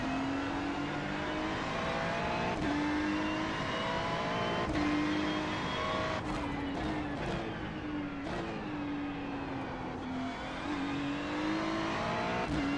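Race car engine in the iRacing simulator at Circuit de Ledenon, a continuous loud drone that rises and falls in pitch through upshifts, braking and corners, with no voices.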